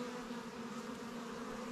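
A swarm of honeybees gathered on a plum tree hums in a steady, dense drone, faint and continuous with no voices.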